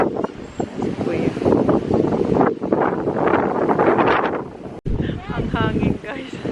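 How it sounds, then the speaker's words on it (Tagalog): Strong wind buffets the microphone at an outdoor golf course during a junior golf competition, a continuous loud rushing roar with gusts, while people talk faintly underneath. "Ang hangin"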